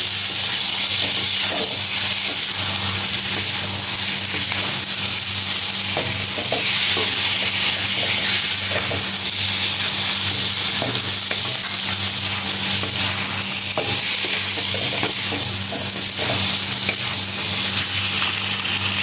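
Potatoes frying in a pan give a loud, steady, close sizzle and hiss that runs without a break, with faint stirring scrapes now and then and no talking.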